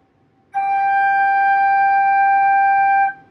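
A flute plays a single sustained G, held loud and steady for about two and a half seconds, alone and clear.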